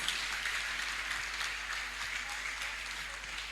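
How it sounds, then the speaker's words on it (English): A church congregation claps together for a faint, steady wash of applause, heard at a distance and low in level, with voices mixed faintly into it. "Can you clap for Jesus Christ?"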